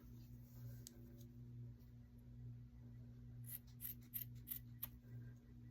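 Scissors snipping through a craft project, a quick run of several crisp close cuts following a quieter stretch with a steady low hum in the background.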